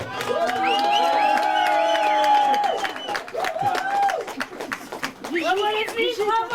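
A crowd at La Nordique Aixoise 2023 claps and cheers, with scattered whoops and raised voices over a steady patter of hands, staying loud throughout.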